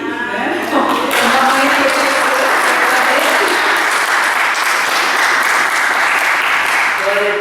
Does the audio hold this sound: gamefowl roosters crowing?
no